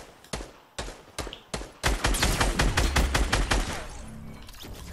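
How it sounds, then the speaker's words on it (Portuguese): Gunfire in a video game, with a few separate loud shots at first and then a rapid, continuous burst of automatic fire that trails off, heard close and without talk. "o cara tá atirando"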